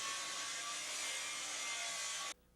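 A circular saw rips through wood with a loud, steady, bright whine that holds for over two seconds before cutting off abruptly as the blade exits the board.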